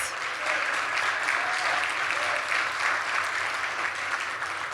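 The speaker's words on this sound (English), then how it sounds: "let's give him a round of applause" An audience at a community meeting applauds its sponsor with dense, continuous clapping that swells and holds steadily for several seconds, with no voices over it.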